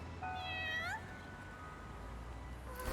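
A cat in a video game gives one clear, rising meow near the start, followed by quiet ambient background with no talking.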